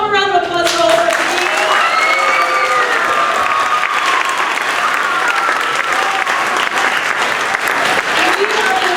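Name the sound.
audience applause at school band concert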